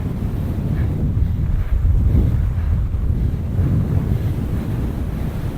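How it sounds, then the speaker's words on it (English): Strong wind roaring steadily across the microphone near the summit of Little Man, a constant low buffeting rush with no voices. "Winds were up, you might hear that."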